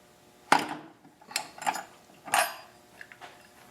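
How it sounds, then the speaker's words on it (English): A 3/8-inch ratchet turns the cam ring on a 2008 Harley-Davidson fuel tank, producing several sharp metallic clicks and clunks in short, uneven bursts, close up with quiet gaps between. "I can attach my 3/8-inch ratchet, hold this down, and turn the cam ring counterclockwise to remove it"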